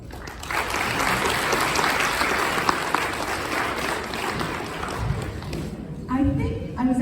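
A room full of guests at a 2023 annual award ceremony honoring Robyn Teplitzky breaks into sustained applause, loud and dense, tapering off as a voice begins speaking over the last moments.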